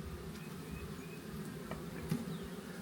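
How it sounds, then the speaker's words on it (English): Honey bees buzz steadily inside an opened hive, a low, dense hum that holds at an even, fairly faint level throughout. "Few bees in there."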